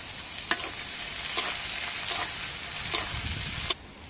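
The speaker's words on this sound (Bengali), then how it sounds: "এবার তেলে আমরা কাঁচা ঝাল আর পেঁয়াজ কুচিটা দিয়ে দেবো" Green chillies and chopped onion fry in hot oil with a steady hiss, and a spoon strikes the pan about five times at even intervals. No one speaks.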